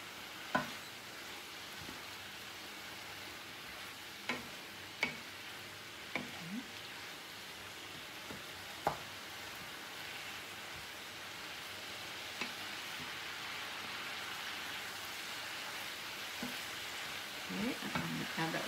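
Shredded cabbage for Southern fried cabbage sizzles steadily in a pan while red pepper flakes are stirred in; a constant soft hiss runs throughout, broken by occasional scraping taps of the spoon against the pan.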